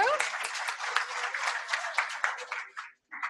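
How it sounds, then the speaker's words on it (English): Conference audience applauding after a quiz session at an adult learning event, a dense burst of many hands clapping with voices mixed in, cutting off briefly near the end before a short final flurry. "Give yourselves a round of applause for getting through"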